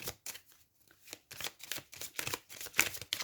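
A deck of oracle cards being shuffled by hand, close and quiet, in a rapid series of papery riffles and slides with brief pauses between bursts and no talk.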